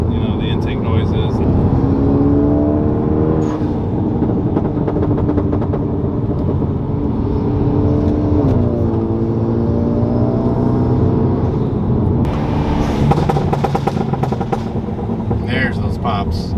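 Hyundai Veloster engine revving with an aftermarket intake, rising and falling engine tones with sharp crackling pops near the end, loud and close, with someone talking over it.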